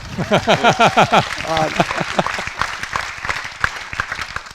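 Audience applause at a brand-building conference, dense clapping rising under a speaker's voice at the start, then continuing as scattered claps that thin out and fade.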